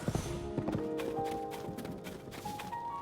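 Horse hooves clip-clop at a steady trot in a Zelda game, loud and close, over game music with a few sustained tones and no voices.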